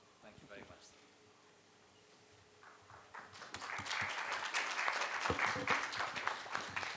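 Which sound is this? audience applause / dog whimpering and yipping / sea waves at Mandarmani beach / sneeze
audience applause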